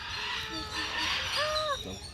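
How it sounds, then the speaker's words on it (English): A chicken at a zoo gives a few honking, squawking calls over an outdoor background, close and fairly faint, with a rising cry near the end. "Chicken."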